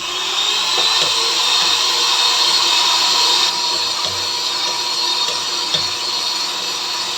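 Blender motor running nonstop while mixing homemade mayonnaise with milk powder, a steady loud high-pitched whine with faint rattling, no pauses.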